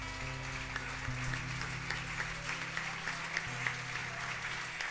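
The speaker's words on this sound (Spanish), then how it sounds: "Que no le damos un aplauso a Jesucristo" A church congregation applauds in praise of Jesus Christ, steady dense clapping throughout with sustained low keyboard or organ tones underneath.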